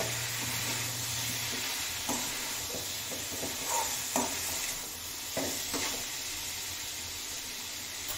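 Masala with Kashmiri red chilli powder, garam masala and kasuri methi frying in a pan, a soft steady sizzle broken by scattered spatula taps and stirring scrapes, fairly quiet and close.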